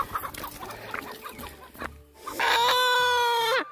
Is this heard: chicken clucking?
yes